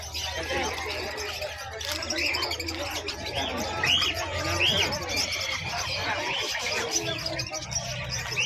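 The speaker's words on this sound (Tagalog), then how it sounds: "Ito may kalapate." Soft cooing and chirping from several pigeons at close range at an animal market in Bocaue, with faint background murmur and occasional higher tweets.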